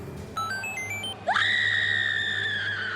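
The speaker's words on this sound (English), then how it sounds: "why are you screaming like that?" A woman lets out a sudden, shrill, sustained scream in a scene from the 2017 horror film Jigsaw, rising sharply after a few brief electronic tones and holding loud and steady to the end.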